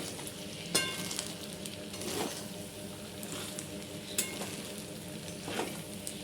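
Sabudana khichdi stirred in a pan, with a steady soft sizzle of frying and occasional scraping strokes of the spoon against the pan, moderately quiet and with no talking.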